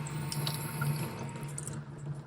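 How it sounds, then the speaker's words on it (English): Water runs steadily from a small camper sink faucet in a Prius camper, fed by a variable-speed electric pump, with a low, even pump hum beneath the continuous hiss of the flow. "So as soon as the faucet is turned on, the pump turns on."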